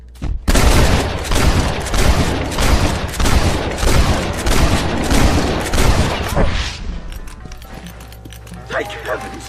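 Rapid, loud gunfire in Red Dead Redemption as riders shoot at a bear, a dense barrage of shots over clopping horse hooves that ends after about seven seconds, leaving quieter ambience.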